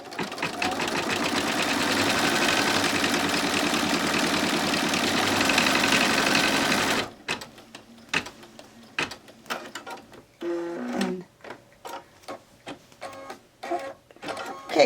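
A sewing machine stitches paper piecing in an embroidery hoop with black thread, a loud continuous mechanical whir for about seven seconds, then it stops, leaving scattered clicks and handling noises.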